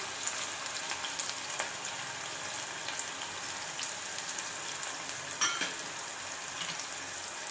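Green chili paste fries in oil with potato for sabudana khichdi, a steady close sizzle and crackle with small popping bursts and light stirring, no voices.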